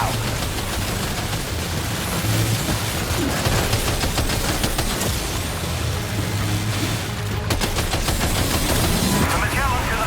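Gunfire in Death Stranding 2 rattles almost without pause, dense bursts of automatic shots layered over rumbling booms and a noisy battle backdrop, loud throughout with a voice briefly mixed in.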